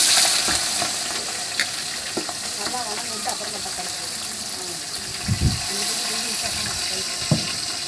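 Onions sauté in oil and ghee with whole spices in a large pot for mutton biryani, a steady close sizzle broken by occasional scraping stirs and thuds of the ladle.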